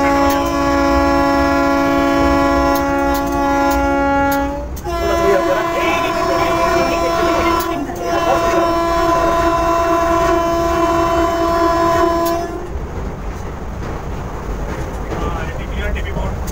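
The inaugural Vande Bharat Express from New Jalpaiguri to Patna sounds long, loud horn blasts in a few sustained tones over a rumbling running train, the horn breaking off briefly and then ceasing near the end.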